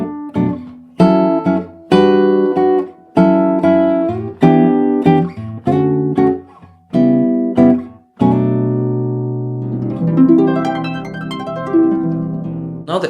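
A melody harmonized with full diatonic chords built from bass, fifth and seventh degrees, played as a sequence of sustained, separately struck chords that end in a longer ringing chord with a busier, shimmering tail, no voices.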